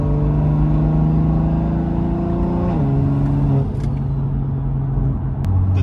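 A BMW B58 engine fitted with a big turbo upgrade drones loudly and steadily from inside the car while driving, its tone holding, then stepping down as the car shifts gear.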